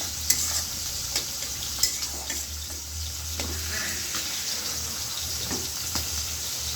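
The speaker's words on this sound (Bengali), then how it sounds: "এখানে মাংস রান্না করতেছি" Meat cooking in a pan in a home kitchen, with a constant low sizzle, occasional clinks and spoon scrapes close by, and a faint hum underneath.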